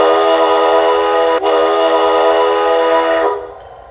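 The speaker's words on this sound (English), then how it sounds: "There's our horn." Steam-era locomotive horn from an Athearn Genesis 2-8-2 model DCC sound decoder, one long loud sustained blast close to the speaker, briefly dipping once before cutting off.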